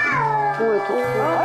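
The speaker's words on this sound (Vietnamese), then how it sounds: "một vài con mèo hoang đột nhiên xông vào phòng" Stray cats meow loudly and close by indoors, long wavering drawn-out cries, several in succession that overlap, with no words spoken over them.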